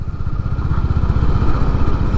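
A Honda CB 350 H'ness motorcycle engine lugs at low revs in fifth gear, its steady close-up exhaust thumps pulsing in a fast, even rhythm with wind rush and no talking.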